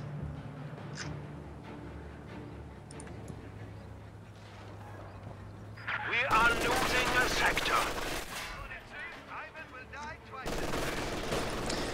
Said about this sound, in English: MG42 suppressing the Royal Engineers.